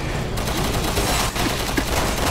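Sustained automatic gunfire in the video game Resident Evil 6, a dense, loud, unbroken rattle of rapid shots that fills the whole stretch with barely a pause.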